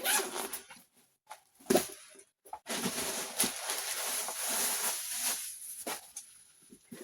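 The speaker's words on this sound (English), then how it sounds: "Zip closure." A zipper slides along the closure of a clean, dome-style designer handbag, giving a few short scratchy pulls with brief pauses between them, close up and fairly quiet.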